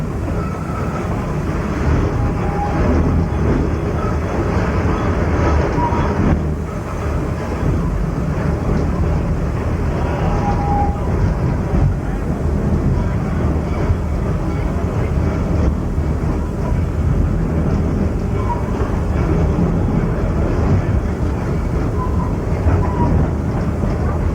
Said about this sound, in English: Using a fire tube boiler, it is fired by propane but actually runs on steam.